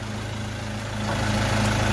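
A camper van engine idles steadily and close by, a low droning hum with a constant tone that swells slightly louder partway through.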